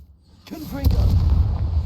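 A Confringo spell blast in Hogwarts Legacy: a brief tonal cast gives way to a deep, sustained rumbling boom that holds steady to the end.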